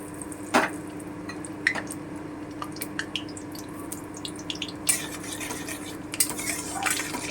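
Whole cumin seeds stirred in hot oil in a pan, with scattered clinks and scrapes of a utensil against metal over a faint, steady sizzle, close and fairly clear.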